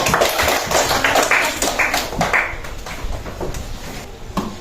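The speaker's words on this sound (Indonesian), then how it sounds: "Tepuk tangan untuk kelompok 1." Students in a classroom applaud a presenting group, a dense burst of clapping that fills the space continuously for several seconds before easing slightly at the end.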